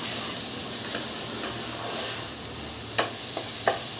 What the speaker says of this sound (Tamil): வெங்காயம், தக்காளி, புதினா, இஞ்சி, பூண்டு விழுது இதெல்லாம் சேர்த்துட்டு கொஞ்சம் நம்ம நல்லா வதங்க விட்டுடலாம்